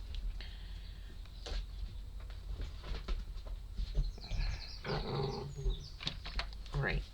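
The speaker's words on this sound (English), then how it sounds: "Puppy doing what puppies do." A puppy makes small yelps, whimpers and growly noises in short bursts, close by, over a steady low hum, with rustling and handling sounds.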